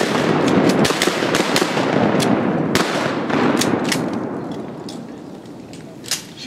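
Several shotgun blasts ring out during an Arkansas duck hunt, sharp loud cracks in quick succession over a dense, noisy outdoor background that slowly fades.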